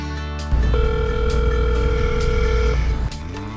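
A telephone rings as Renee calls Tom: a steady electronic ring tone holds for about two and a half seconds, loud and close, with nobody talking.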